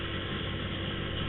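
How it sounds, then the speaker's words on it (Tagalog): Steady, smooth engine drone from a Honda TMX 125 Alpha motorcycle climbing a long uphill road, heard close and continuous without talk. "Pero smooth yung makina, smooth yung tunog."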